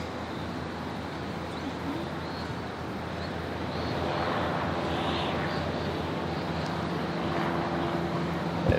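A 2005 Cessna 172S light aircraft sits on the runway at Gold Coast Airport, its engine a steady, distant drone that swells slightly halfway through over broadband outdoor noise.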